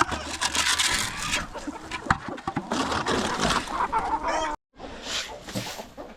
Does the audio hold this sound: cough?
no